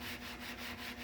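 Steady scrubbing of black grime off a surface, a continuous rough rubbing with a rhythmic back-and-forth pulse at roughly every fifth of a second, close up with no talking.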